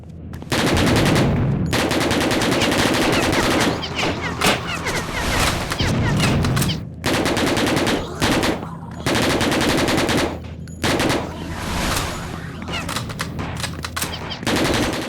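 Enemy AI gunfire in the shooter Hellforces rattles in long, loud automatic bursts separated by short gaps, dense and close, with booming impacts mixed in and no speech.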